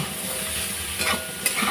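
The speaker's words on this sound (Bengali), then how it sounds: "ডাঁটাটা আমি অল্প ভেজে নেব" Pumpkin-green stalks fry with potatoes in a pan for a Bengali shak chachori, a steady soft sizzle with a few light stirring scrapes near the end and no voices.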